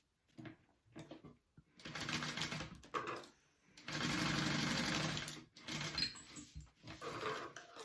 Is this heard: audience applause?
no